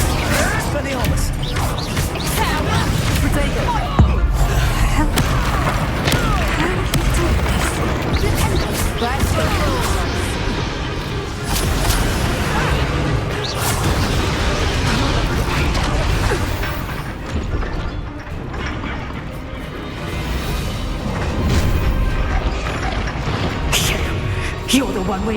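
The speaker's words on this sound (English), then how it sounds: "Expelliarmus!" Expelliarmus spell cast in the video game Hogwarts Legacy, with magical crashes, whacks and mechanical clatter from combat under a steady dense game mix and speech throughout.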